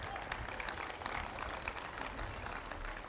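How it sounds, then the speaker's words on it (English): Faint, steady applause for a pep band rises from a crowd gathered at the grand opening of a family champions center, continuous clapping at a distance without clear speech. "How about a round of applause for the pep band?"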